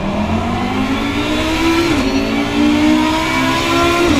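GT3 race car in a racing sim game, engine droning loud and steady at high revs, with a brief dip as it shifts gear before pulling on again.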